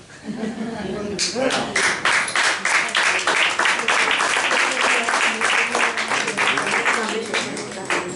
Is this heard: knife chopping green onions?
no